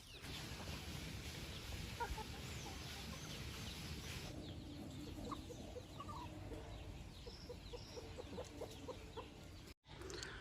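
Country chickens on a poultry farm in Madurai cluck and chatter continuously at a moderate distance, several birds overlapping in a quiet, steady barnyard murmur.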